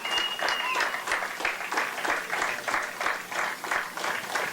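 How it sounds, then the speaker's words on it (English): Steady applause from a crowd at a high school baseball game fills the space, with a brief whistle near the start and voices blending in. "Let's give all these Mustangs a great round of applause"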